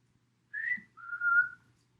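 Two clean whistled notes from a person nearby, a brief higher pitch and then a held lower tone, with a faint low hum underneath and no speech.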